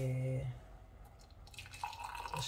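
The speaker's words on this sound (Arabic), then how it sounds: "غادي نزيد عليه شويه ديال الماء" A little water is poured onto half a Maggi stock cube in a home kitchen. A brief voice comes first, then a light trickle and scattered drips close by.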